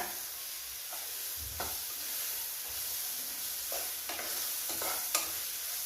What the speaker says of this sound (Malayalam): നല്ലോണം ഒന്ന് ഇളക്കി യോജിപ്പിച്ചതിന് ശേഷം